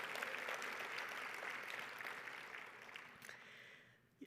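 An audience at the AWP22 conference keynote address applauds in a steady, fairly distant patter of clapping that gradually thins out and fades away.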